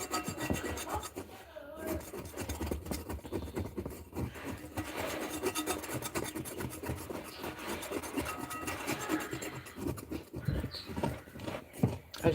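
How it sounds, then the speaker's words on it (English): A dough hook scrapes sticky sourdough from the sides and bottom of a stand mixer bowl, giving a soft, continuous rasping and rubbing with uneven pulses, fairly faint and close. "Let me bring that dough hook back and scrape the sides of this bowl."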